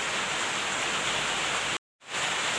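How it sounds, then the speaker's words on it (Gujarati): Heavy rain pours down in a loud, steady, unbroken hiss that cuts out completely for a brief moment and then resumes at the same strength. "આ વરસાદ કેટલો અંધારેલો છે"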